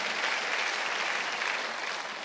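A church congregation at a Sunday worship service gives a round of applause, a continuous, even wash of many people clapping together at moderate volume throughout.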